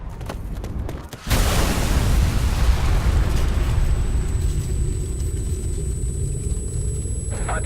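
A bomb detonates in Ghost Recon Future Soldier with a sudden, loud blast that rolls into a long, deep rumble, then slowly fades over several seconds while a high ringing tone hangs above it.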